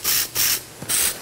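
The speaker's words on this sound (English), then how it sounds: "Again, I'm spraying it from a distance." Three short, loud hissing bursts from an aerosol can of cream touch-up paint for a butterscotch-colored show steer, sprayed from a distance onto the steer's leg, each burst separated by a brief pause.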